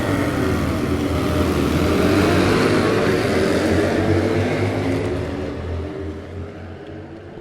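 Harley-Davidson XR1200 V-twin motorcycles racing in a cup event at St-Eustache: a loud, close roar of several engines under hard acceleration, holding steady and then fading slightly as they pass.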